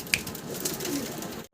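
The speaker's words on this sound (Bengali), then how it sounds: "চমৎকার এক জোড়া আউল কবুতর। আউল না ভাই? শ্যাডেল আউল কবুতর।" Shadel owl pigeons, a pair of fancy breed birds, coo softly and continuously at close range, with a brief higher call near the start before the sound cuts out at the end.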